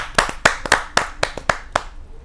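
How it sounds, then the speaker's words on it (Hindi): A few people clap sparsely at a Hindi kavi sammelan poetry gathering, welcoming a poet to the stage with about eight distinct, separate claps spread over two seconds, close and fairly loud. "जहाँ जोरदार तालियों के साथ श्री प्रमोद गुप्त जी का हार्दिक स्वागत है"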